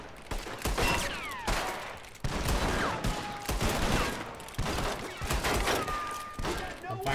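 Gunfire in the Western game Red Dead Redemption: repeated bursts of rifle and pistol shots crackle in several volleys, with whistling ricochet-like tones between them and voices faintly mixed in.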